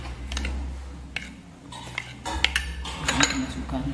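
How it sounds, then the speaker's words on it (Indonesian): A utensil clinks and scrapes against a bowl in short, irregular strokes while stirring oil into sweet potato chiffon cake batter, close by, with a low background hum. "Kita aduk-aduk dulu sedikit-sedikit saja ya."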